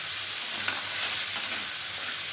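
Salt and turmeric stir-fried in fish oil for a pumpkin-flower fritter dish: a steady, bright sizzle fills the whole stretch, with faint scraping stirs near the middle, close and unbroken with no talk.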